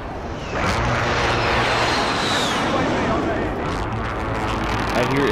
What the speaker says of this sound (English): I hear airplanes.